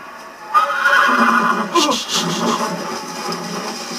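A horse in a Game of Thrones video game lets out a loud, close whinny that rises and then trails off in a shaky descending neigh lasting a few seconds.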